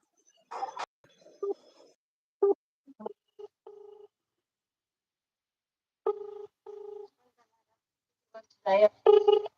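A phone call connecting, with short electronic beeps and steady tones in brief bursts separated by silence, followed by a short garbled sound at the end.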